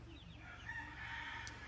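A rooster crows faintly in the distance in a rural Bicol yard, giving a brief call under low rumbling background noise.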